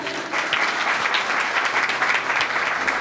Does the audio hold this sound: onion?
no